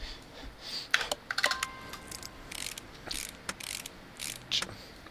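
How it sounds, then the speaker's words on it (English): A socket wrench ratchets in the video game Railroads Online, giving quick, light clicking bursts in an irregular rhythm, close and fairly quiet, with a few sharper metallic ticks between them. "I love socket wrenches."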